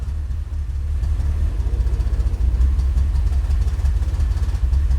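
A BMW X3 with a cylinder 2 misfire idles during a cylinder cut-out test, a steady low engine rumble close by with a slightly uneven, pulsing beat and no talk.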